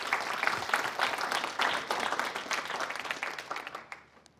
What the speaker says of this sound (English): So let's give Doug a round of applause.